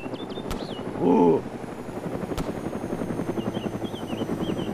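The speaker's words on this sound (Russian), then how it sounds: "О, я вижу вертолет." A helicopter in the video game DayZ gives a steady rhythmic rotor thump throughout, fairly near, with brief talk and a couple of sharp clicks over it.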